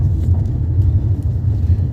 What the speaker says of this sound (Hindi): क्लच दबा के सेकंड गियर से थर्ड गियर पे ले आई हूँ अब मैं गाड़ी